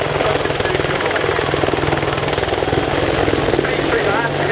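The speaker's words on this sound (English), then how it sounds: "2015 Mac helicopter display." Attack helicopter at a 2015 air display, its rotor chop pulsing steadily and loudly close by, with an announcer's voice over the noise.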